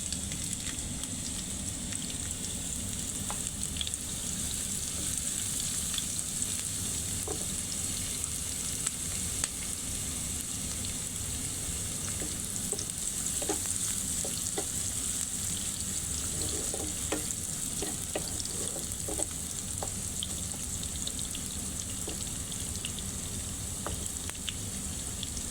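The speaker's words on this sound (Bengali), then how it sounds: "প্যানে গরম তেলে দিয়ে দিলাম পেঁয়াজ" Onions frying in a little hot oil in a pan for a light tengra fish and ridge gourd curry, a steady close sizzle with scattered crackles and occasional stirring, continuous throughout and without speech.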